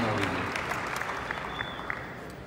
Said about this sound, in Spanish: Un fuerte aplauso para los ganadores de esta categoría